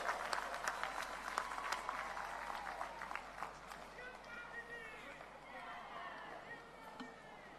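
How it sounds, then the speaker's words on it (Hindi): Applause from a large outdoor political rally crowd in Bastar greeting Priyanka Gandhi, a dense patter of clapping that is loud at first and then thins, with voices calling out through it. "जोरदार ताली बजा के स्वागत करें"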